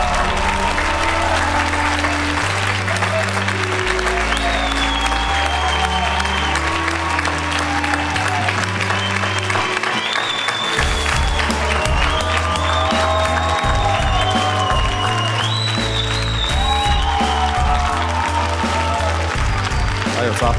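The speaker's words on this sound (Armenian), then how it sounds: "Եփարակ բարձր ծափարություններ ճանապարհում ենք Ռաֆայելին" A television talent-show audience breaks into loud, sustained applause and cheering, a dense wash of clapping that runs unbroken under loud stage music, with a voice also heard over it.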